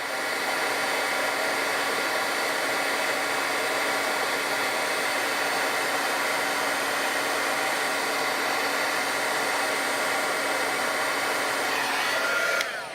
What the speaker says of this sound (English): Now, my Wagner heat tool has arrived. This is my absolute favourite tool to use.